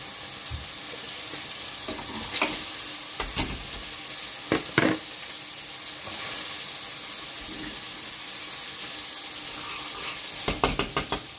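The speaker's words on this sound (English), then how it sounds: "I'm going to drop my lovely piece of fish into a hot pan just to sear it" Cod wrapped in Parma ham sears in a hot pan after butter, a steady broadband sizzle running throughout with a few sharper clinks and scrapes of the pan, close and moderately loud, no talking.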